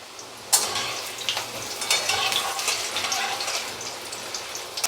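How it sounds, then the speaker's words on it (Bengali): Large diced potato chunks frying in oil in a pan for a mushroom curry, a steady close crackling sizzle that swells suddenly and continues throughout with occasional stirring. "প্রথমে আমি আলুগুলোকে একটু ভেজে নেব।"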